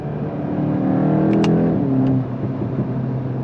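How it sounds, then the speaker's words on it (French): Volkswagen Golf 8 GTI Clubsport, a 300-horsepower front-wheel-drive hot hatch, revs loudly as its engine climbs and then eases off, with short sharp hissing bursts from the turbo blow-off near the peak. "On entend également donc, le soufflement du turbo."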